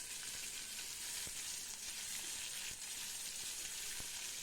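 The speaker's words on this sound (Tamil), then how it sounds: "கொஞ்சம் வதக்குவோம்." Onions, curry leaves and coriander sautéing in a pan for a bitter gourd tamarind curry, a steady close sizzle running throughout with a few faint stirring clicks and no voices.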